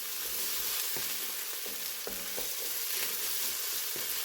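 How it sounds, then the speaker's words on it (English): Vegetables sizzle steadily in a pot for a one-pot holiday dish, with occasional soft scrapes and knocks as a spoon stirs them across the bottom, close and continuous throughout. "you just want to keep stirring those vegetables as they cook"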